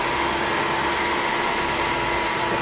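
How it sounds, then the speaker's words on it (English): A hair dryer blows continuously at close range in a salon during a layered bob haircut on curly hair, a steady loud whooshing roar with no breaks and no talking. "Now you put the dryer on."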